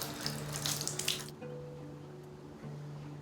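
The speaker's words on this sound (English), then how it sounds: "running water." A tap in a newly built house gushes strongly for about a second, then shuts off, leaving a low steady hum of water flowing through the pipes.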